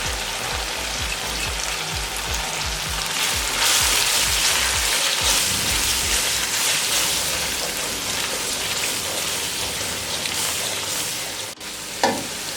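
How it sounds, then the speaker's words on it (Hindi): Powdered spices frying with cooked tomatoes in a pot for chicken biryani, a loud continuous sizzle with stirring scrapes throughout, close up with no talk, ending in a brief sharp clink. "अब इसमें तमाम पाउडर मसाले ऐड करेंगे और 1 मिनट के लिए इसे भी फ्राई करेंगे।"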